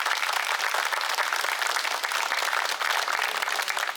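A crowd at a flea market meetup claps together in a round of applause for Scoutcrafter. The clapping is dense and even throughout the few seconds, at moderate loudness, with no speech over it.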